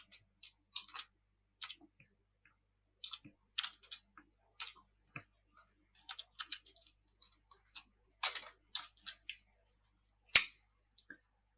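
Light, sparse clicks of computer keyboard keys as a command is typed in Kali Linux, quiet and close in short irregular bursts with near silence between them.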